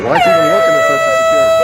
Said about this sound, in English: you can hear all the air horns going off constantly